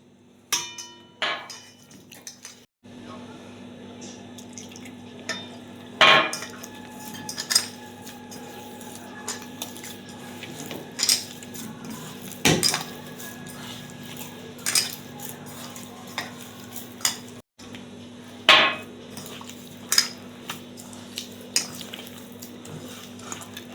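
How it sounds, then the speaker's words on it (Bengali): Rice-flour batter for gurer pitha is stirred by hand with warm water added bit by bit. Irregular clinks and knocks of a utensil against a bowl sound throughout over a steady low hum. "একটু একটু দিয়ে একটু করে জল দেব আর ব্যাটারটা তৈরি করতে থাকবো"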